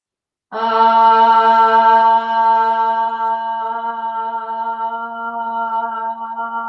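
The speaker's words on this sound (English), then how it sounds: "with each exhale to make the ah sound" A single long, steady 'ah' vowel voiced on an exhale during yoga, held for about six seconds, clear and close, with no other sounds.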